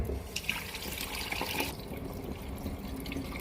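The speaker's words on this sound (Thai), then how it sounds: "เทน้ำทิ้งนะคะ" Rinse water is poured off washed new Hom Sakon rice, a steady close splashing pour that tapers off into quieter trickling.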